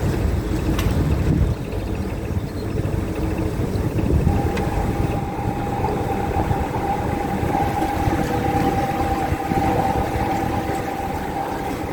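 A narrowboat engine chugs steadily while cruising along a canal, with a constant low drone and a faint tonal hum rising midway, some wind noise, and no talking.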